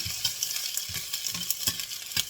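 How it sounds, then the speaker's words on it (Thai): Mushroom spring roll filling being stir-fried in oil in a pan, with a steady hiss broken by rhythmic scraping strokes of a spatula about every half second, close and alone. "ผัดให้มันมีกลิ่นหอมจังหน่อย"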